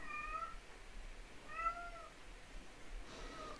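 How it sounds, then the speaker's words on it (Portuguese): A house cat meows three times, faint and somewhat distant, each a short drawn-out tonal call spaced about a second and a half apart over low room noise. "espero que nessa gravação não saia meu gato miando"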